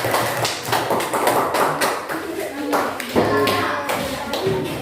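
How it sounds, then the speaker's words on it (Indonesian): Classmates in a junior high school classroom clap for a student group that has just finished presenting, close, uneven bursts of hand claps mixed with desk taps and shuffling, with children's voices chattering underneath. "tepuk tangan dulu buat kelompok 2"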